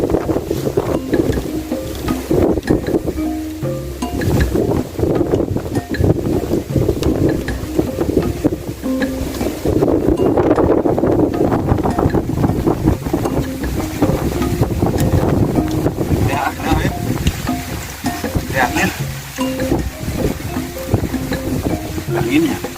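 Strong wind gusts roar continuously outdoors at a cooking spot where rice is being prepared, buffeting the microphone loudly throughout, with people talking underneath.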